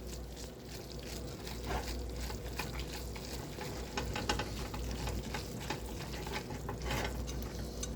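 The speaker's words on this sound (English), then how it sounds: "what you want to do is you want to stir this." Ramen with added cheese and butter is stirred in a pot, a continuous soft scraping and wet sloshing with scattered faint clinks, steady and close throughout.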